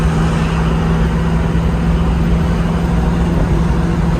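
A 1967 Chevrolet Camaro SS convertible hums in a steady, close engine drone with road noise while cruising. No distinct gear change stands out.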